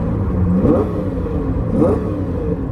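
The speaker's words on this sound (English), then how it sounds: "I'll rev it up here" A Lamborghini Diablo with a 5.7-liter V12 idles close by, then gets two quick throttle blips, each a short rising rev that falls back to idle.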